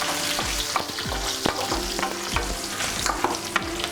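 Dry red chillies frying in a pan, a continuous close sizzle punctuated by regular scraping strokes of a stirring spoon against the metal, no voices.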